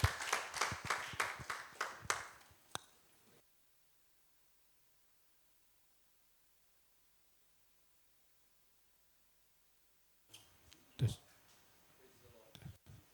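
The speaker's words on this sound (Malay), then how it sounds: "Kita tepuk tangan untuk Tuhan." A church congregation claps hands together at an afternoon leadership service, a burst of rhythmic claps for a few seconds that breaks off into silence, followed later by brief handling noises.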